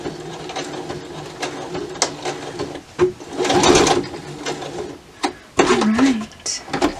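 A sewing machine stay stitching the edge of a ribbon skirt, running in close, whirring bursts that stop and restart, with brief mechanical clicks between runs.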